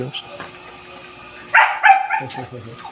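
A dog barks a couple of times, sharp and fairly close, with some quieter sounds in between.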